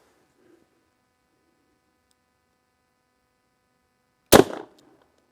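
A Kimber K6s revolver fires at a target range: one loud, sharp report breaks near silence late on and decays quickly, with no further shots.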